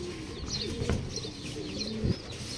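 Pigeons coo on a rooftop where they are kept and breeding, soft repeated low coos close by, with faint chirps in the background.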